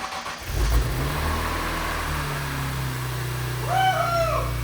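A reassembled car engine turns over and catches, settling into a steady low idle, with a brief rev and a faint whistle near the end.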